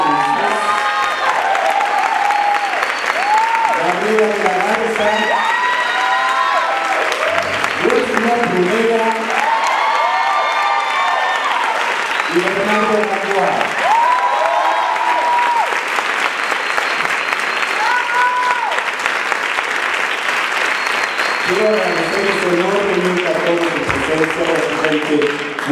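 An audience at a theatre premiere gives the cast sustained applause, dense clapping with some cheering, while a voice over a loudspeaker keeps talking in bursts above it throughout.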